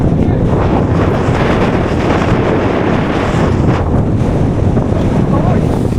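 Strong wind buffets the microphone on a misty hilltop ringed by mountains, a loud, steady roar with gusty surges filling the whole stretch.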